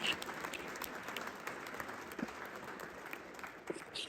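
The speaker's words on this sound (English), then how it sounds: "So big loud applause for my team." Steady applause from a crowd at a Hindu temple anniversary event, dense clapping filling the room at a moderate, even level with no voices standing out.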